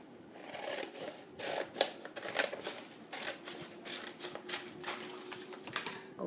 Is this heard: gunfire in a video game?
no